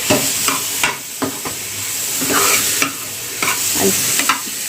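Bitter gourd and onion curry with spices being stirred in a pan, with loud, repeated scraping strokes over a continuous bright sizzle, close and busy throughout.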